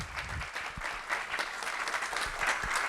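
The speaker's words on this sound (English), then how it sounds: "round of applause for everyone who came out tonight and competed in the National Civics Bee" An audience applauds competitors at an evening National Civics Bee event, a steady, moderately distant wash of many hands clapping that carries on evenly for the whole stretch.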